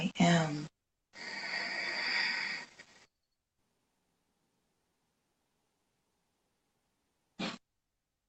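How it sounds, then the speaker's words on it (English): A deep, slow breath released in a long, close, breathy exhale during a guided meditation, preceded by a brief voice and followed by silence, then a short breath sound. "Take a deep breath in."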